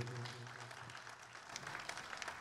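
An audience at a dance school's 35th anniversary opening ceremony gives a round of scattered, fairly faint applause, with the claps growing more distinct as it goes on.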